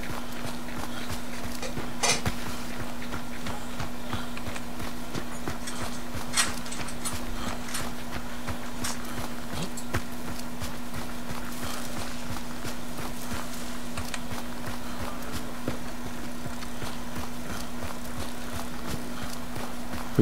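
Horse hooves in the video game Hunt: Showdown, a steady run of clip-clop hoofbeats over about twenty seconds under a constant low hum, with a few sharper knocks scattered through.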